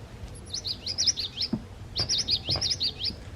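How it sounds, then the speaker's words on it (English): A Wild Republic plush toy plays a recorded common yellowthroat call, two quick rolling phrases of repeated whistled notes at moderate volume over a soft background hiss and light handling bumps. "Common yellowthroat."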